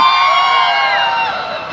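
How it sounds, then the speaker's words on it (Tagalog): A big crowd at a national rally in Bacolod city cheers and shouts in a loud, steady roar of many high voices that holds through the whole moment. "Ang lalakas ko mga hiyawan!"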